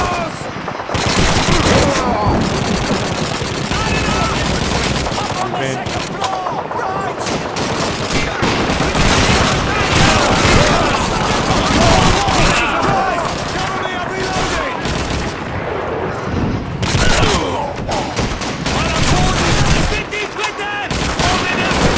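Dense, continuous rifle and machine-gun fire from a World War II battle in Call of Duty 2, loud and relentless throughout with overlapping bursts and a player talking over it.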